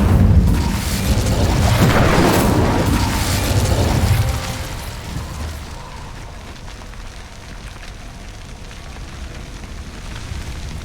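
The Incendio fire spell bursts out in Hogwarts Legacy, a loud whooshing roar of flame with a booming onset that lasts a few seconds before it fades into a low, steady crackling background.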